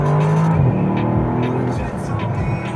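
A Bentley sports car engine drones loudly nearby, a sustained revving hum that drops in pitch partway through and then settles into a steady roar.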